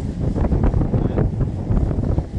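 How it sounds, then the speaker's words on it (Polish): Strong wind buffets a microphone outdoors, producing a continuous loud low rumble and roar throughout, with no clear speech. "I nie wiem, czy mnie słychać, bo wieje."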